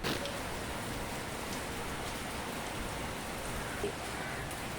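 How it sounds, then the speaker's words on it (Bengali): Heavy rain pours down in a dense, even hiss that stays steady and fairly distant throughout, with no talk. "খুব জোরে বৃষ্টি শুরু হয়ে গেছে কিন্তু ভালোই জোরে বৃষ্টি হচ্ছে"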